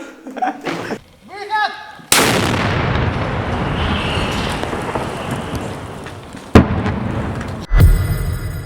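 A few voices at first, then a loud military mortar shot booms and rumbles away, with two more sharp, heavy blasts following later.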